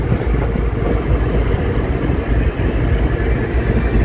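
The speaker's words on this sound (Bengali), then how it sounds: "অত্যন্ত পাওয়ারফুল একটি ডিজেল লোকোমোটিভ" A WDG4G diesel locomotive rumbles steadily at Kamakhya Junction, a busy railway station, its deep engine drone loud and continuous with no break.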